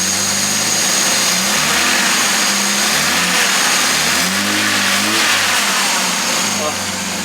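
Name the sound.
vintage Jaguar car engine running and revving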